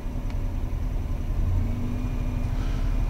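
A 1994 Buick Roadmaster Wagon's engine runs steadily at around 1200 to 1500 rpm as a low, continuous rumble with a slight rise in pitch, heard from inside the car.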